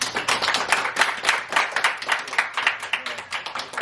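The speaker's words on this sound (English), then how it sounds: "Can we clap for that?" A group claps steadily together, a dense run of overlapping hand claps at a lively, even rhythm, fairly loud throughout.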